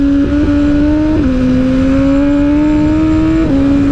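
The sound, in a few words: Suzuki GSXR motorcycle ridden on a circuit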